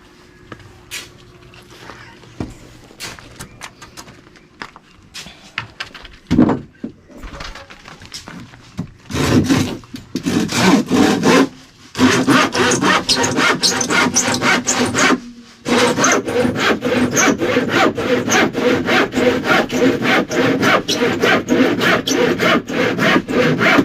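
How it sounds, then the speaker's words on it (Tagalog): A hand saw works through a wooden beam for a house, starting with scattered knocks and then settling into loud, steady back-and-forth rasping strokes close by, with brief pauses between runs. "So, malambot lagariin."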